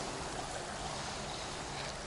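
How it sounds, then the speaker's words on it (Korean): Faint, even flow of water at a quiet freshwater fishing spot, a soft continuous wash with no voices or other sounds over it. "고요함 속에 물소리만 들리는도다"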